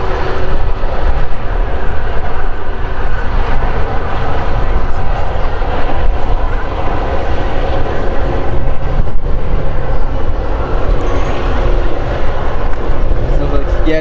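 A TUI Dreamliner airliner roars loudly and continuously past the visitor park at Manchester Airport, with engine noise filling the scene while people talk over it.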